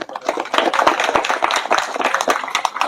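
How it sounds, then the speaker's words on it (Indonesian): Lively, close applause from a crowd at an IKSPI Kera Sakti new-member ceremony in Indonesia, with quick irregular claps running for about three seconds. "Tepuk tangan lagi."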